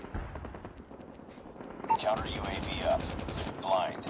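Gunfire rings out in the Call of Duty Mobile video game: quick bursts of automatic shots and whizzing bullets, moderately loud, with a steady game soundtrack humming underneath.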